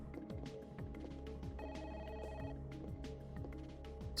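A telephone rings in the Parasite Eve video game, with repeated trilling bursts over a steady low game ambience and no talking.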